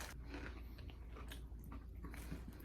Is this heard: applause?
no